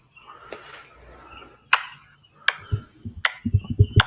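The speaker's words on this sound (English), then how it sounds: "So clap your hands." A few sharp, separate hand claps, well spaced at first and then coming in a quicker, uneven run, close by and fairly quiet, with a low voice murmuring between them.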